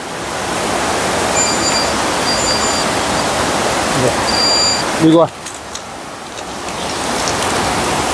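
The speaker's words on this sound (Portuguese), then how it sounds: "é muito difícil por causa do barulho da cachoeira" A waterfall inside a cave roars as a constant, loud wash of noise, with faint electronic beeps from a metal detector and a brief spoken word partway through.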